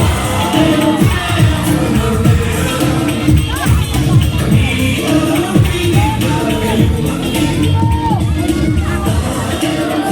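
A large crowd at a political rally in Manila shouts and cheers loudly and continuously, a dense roar of voices with whoops and scattered cries throughout.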